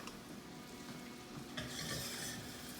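Butter and flour are whisked together in a pan. A faint, soft sizzle carries quick scraping whisk strokes, which grow a little brighter and busier toward the end, with no voices.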